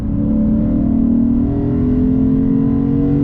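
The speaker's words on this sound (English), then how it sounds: "Naturally aspirated V8. Look at this. Love that sound." The naturally aspirated V8 of a 2022 Lexus IS 500 F Sport Performance revs hard and climbs steadily in pitch toward redline, loud and close, a throaty growl building without pause.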